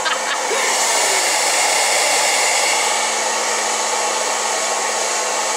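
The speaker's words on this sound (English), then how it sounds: "at the end of my blow drying, I always do a cool shot to lock in the curl from the brush" A hair dryer on its cool shot setting blows at the end of a blow-dry, giving a loud, steady airy roar with a faint motor tone throughout and no talk.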